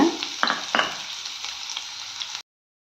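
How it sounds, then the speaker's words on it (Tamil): Chopped large onions dropped into hot oil for a kuzhambu, a loud close sizzle with a couple of stirring scrapes early on, then steady frying hiss before cutting off abruptly. "இந்த டைமில் வெட்டி வச்ச பெரிய வெங்காயம் சேர்த்துக்கலாம்"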